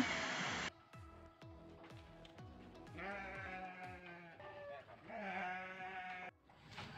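Goats being readied for slaughter in a sheep-raising village in Sindangjawa bleat repeatedly. Several close, overlapping cries follow one another without a break.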